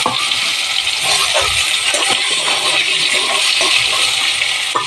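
Pointed gourd (potol) rubbed with salt and turmeric frying in hot oil, giving a steady, dense sizzle with small crackles and pops throughout, close and fairly loud.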